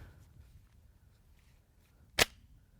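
A Keltec Sub-2000 rifle's bolt is locked open with one sharp, close metallic clack, alone against quiet room tone.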